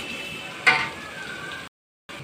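Cumin and coriander paste frying in a pan for chicken biryani, a soft sizzle with one brief stirring scrape, then a short silence before the sizzle returns.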